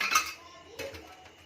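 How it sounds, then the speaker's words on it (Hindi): An iron tawa griddle is set down on a kitchen stove, giving one sharp metallic clank followed by a softer scrape and knock, close by and alone. "देखो मैंने तवा चढ़ा दिया है"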